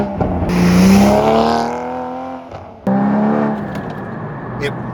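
A Porsche 981 GT4's 3.8-litre flat-six revs up loudly with a rising snarl, falls back, then barks again and settles into a rumble, heard close with a voice talking over it.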